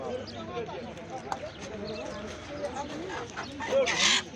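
Roosters cluck among crowd chatter at a poultry market in Sungurlu, Çorum, with short clucks scattered through the clip and a sharper call near the end, all under nearby talking voices.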